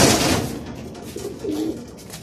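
A racing pigeon returns to its loft during a Laoag race, giving a brief soft coo over a steady background rush of outdoor noise.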